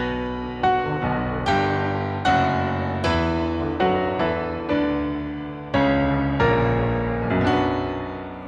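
Solo piano plays the main melody of a film theme, with struck chords and single notes ringing out at a moderate, measured pace, close and clear with no talk.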